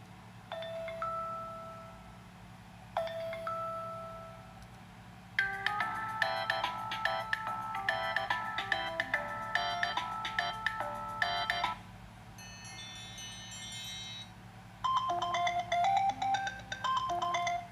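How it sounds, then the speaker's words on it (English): Ringtone clips from an iPhone 6s Plus sealed inside a Maxdara waterproof case play one after another: chimes, marimba-like melodies and bright tone runs, clear and unmuffled, with short gaps between them over a faint hum. "I'm gonna just play little clips of music from my ringtones"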